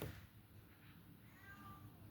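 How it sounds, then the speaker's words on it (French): A house cat meows faintly and stays distant outdoors, behind the house. A thin rising-falling call sits low under a steady background hiss. "C'est mon chat, il me perturbe, il fait que miauler."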